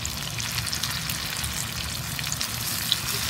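Chicken adobo sizzles and fries steadily in a pan, a continuous close crackle with no talk over it.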